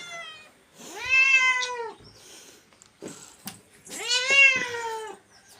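Cats in a home meow for washed fish with two long, drawn-out cries close by and some faint clicks and knocks between them.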